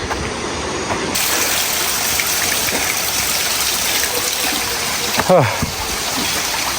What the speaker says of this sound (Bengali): ঝর্নার পানি